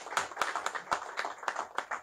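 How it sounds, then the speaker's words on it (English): An audience claps for Dangote at a formal gathering, a short, fairly faint round of scattered handclaps in an irregular rhythm. "I think you should join me in clapping for him for that."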